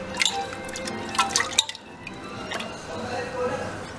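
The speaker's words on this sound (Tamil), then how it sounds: "நான் இந்த 1 டம்ளர் தண்ணி ஃபுல்லாக ஊற்றுறேன்." A full tumbler of water is poured into salted sago (javvarisi) batter for vadagam, with splashing drips and clinks of a vessel at close range, followed by quieter stirring and liquid sounds.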